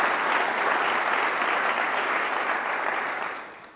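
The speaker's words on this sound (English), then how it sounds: "A round of applause for all of our fantastic sponsors." A large policy conference audience gives a dense, even round of applause for the event sponsors, holding steady before fading near the end.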